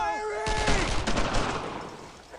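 Squad suppressing fire in the World War II shooter Brothers In Arms: Road To Hill 30, a sudden burst of rapid overlapping gunshots that breaks out after a brief voice and then trails off.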